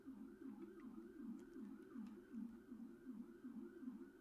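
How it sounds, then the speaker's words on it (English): Police and emergency vehicle sirens wail outside in a steady rising-and-falling cycle, faint and muffled as if heard from indoors, with no talk over them. "I don't know if you guys can hear all those sirens that are going by."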